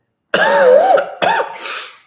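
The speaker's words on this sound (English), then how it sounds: "cough during a live video" Two harsh, loud coughs sound up close, the first drawn out and the second shorter, followed by a faint breathy exhale.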